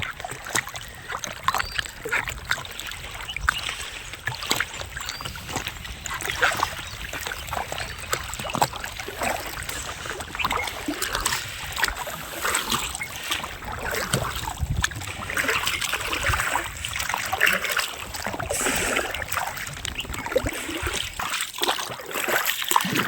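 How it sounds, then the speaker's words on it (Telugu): Water rushing fast downstream out of a pond, a continuous broad gurgling wash with splashy trickles, steady and fairly close, with no talk over it. "ఇదైతే ఇంకా ఈ చెరువు నుంచి ఇట్లా కిందకి వెళ్తే వెళ్తాయి స్పీడ్గా వెళ్తున్నాయి నీళ్ళు"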